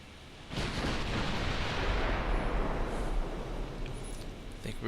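Naval 9.5-inch guns firing in Ultimate Admiral Dreadnoughts with an Imperial Japan fleet: a sudden heavy blast after half a second that swells into a broad, sustained roaring rumble and slowly fades, with a voice faintly underneath.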